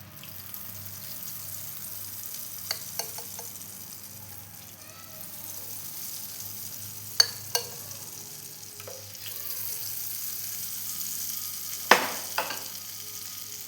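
Sweet batter for Kannur appam fries in hot ghee in a pan, a soft, close bubbling sizzle with a few sharp clinks of utensils scattered throughout.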